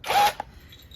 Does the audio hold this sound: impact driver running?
yes